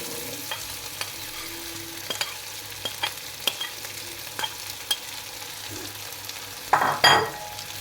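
Fried loitta shutki (dried Bombay duck) being stirred with potatoes in a pan, giving a steady soft sizzle broken by scattered scraping clicks and a louder clatter of the spoon near the end.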